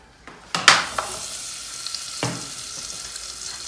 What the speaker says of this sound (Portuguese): na panela, eu vou colocar margarina